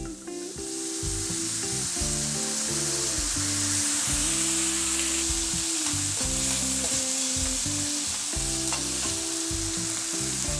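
Asparagus frying in a pan with Stella Rosa Black wine added, giving a loud, steady sizzle with constant stirring and scraping clatter throughout, and no one speaking.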